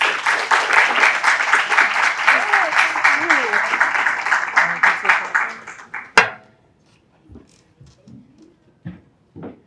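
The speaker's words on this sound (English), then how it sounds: "Another round of applause." An audience at a fireside chat at a film festival gives a steady, dense round of applause for about six seconds. It ends with a sharp thump, and then scattered quiet sounds and a voice follow.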